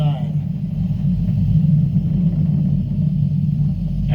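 Falcon 9 rocket climbing past Mach 1 on a Crew Dragon launch: a steady, dense low rumble holds without a break throughout, with faint radio voices over it.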